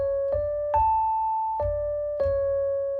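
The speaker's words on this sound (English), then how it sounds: "So right now I just have a classic electric piano pulled up just so that I can have something to play." A classic electric piano plays a short lead line of four sustained notes, each struck cleanly and left to ring, close and alone without speech.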